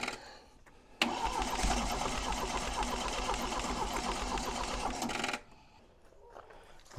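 A Triumph TR7 parts car engine runs with extra throttle for about four seconds, a close, rough, buzzing roar that starts abruptly and cuts out just as suddenly into near quiet.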